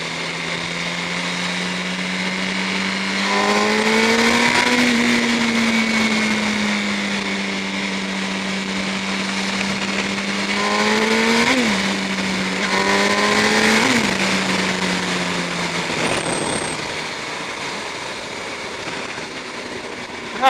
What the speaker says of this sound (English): That's what's the point in having a 1000cc bike if you ride it like a 400.